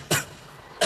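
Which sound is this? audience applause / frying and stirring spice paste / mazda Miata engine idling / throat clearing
throat clearing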